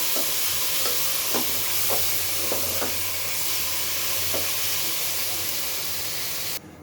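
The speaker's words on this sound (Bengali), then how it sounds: "এই যে শাকটা এখন দিয়ে দিলাম। এখন ভালোভাবে মিশিয়ে নেব।" Leafy greens fry with browned garlic and onion in a steady, dense sizzle, while a spatula stirs with periodic scraping knocks for several seconds before the sound cuts off abruptly, close up, with no talking.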